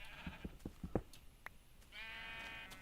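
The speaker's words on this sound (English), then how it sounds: "The constant bleating of the sheep mocking me for my failures." Faint blocky sheep in Minecraft give a few short bleats in quick succession, followed by a steady tonal game sound, quiet and distant.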